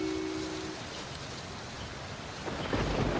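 Heavy rain pours outside in a steady broadband roar, and a low rumble of thunder swells in near the end; no one speaks.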